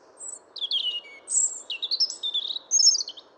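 European robin singing a run of high, thin warbling phrases and trills, clear and fairly close, with short pauses between phrases and no other sounds.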